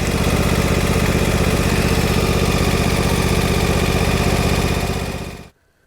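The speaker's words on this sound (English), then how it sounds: "Go ahead and start her up and make sure it's working." A Husqvarna garden tractor mower engine runs steadily and loud, a continuous droning idle held for several seconds before it cuts off abruptly near the end.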